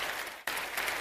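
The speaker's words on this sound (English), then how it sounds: "let's clap for Ava" Audience applause at a gamescom 2017 stage show, a steady wash of clapping broken by a brief cut partway through.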